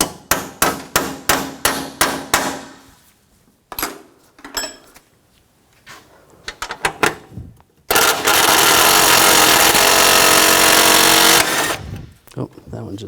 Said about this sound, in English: Using a 12mm socket, take this bracket off.